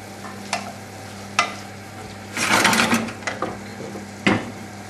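Deskinned, deseeded blanched tomatoes, chopped pepper and vinegar-marinated chopped chilli fry in a pan under a soft hiss, broken by a few sharp utensil scrapes and one louder, crackling burst of sizzle midway. No one speaks.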